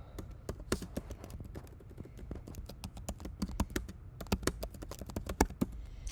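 Close, quiet clatter of a computer keyboard as a short message is typed, irregular bursts of crisp key taps with brief pauses, no talk.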